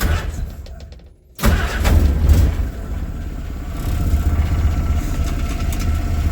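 A 1946 Willys CJ-2a engine warming up: a close, rough low rumble that dips briefly, then surges with a little throttle and settles into a steady, slightly uneven idle.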